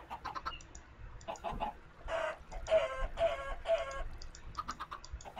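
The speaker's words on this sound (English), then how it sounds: "because I just heard a chicken die" Minecraft chickens cluck in short repeated bursts, with a few louder squawks in the middle as one is hurt and dies, the electronic game sounds coming close and clear with no talking.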